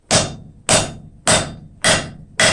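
Five loud, evenly spaced hammer blows strike aluminum being forged, each a sharp close metallic impact with a short ringing decay.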